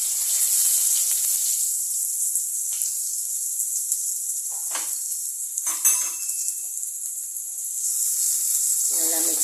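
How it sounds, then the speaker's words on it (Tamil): Onions go into hot oil with popping fennel seeds for a double beans kurma, producing a steady bright sizzle with intermittent clinks and stirring scrapes close by. "சோம்பு பொரிஞ்ச உடனே வெங்காயம் போட்டுக்கோங்க"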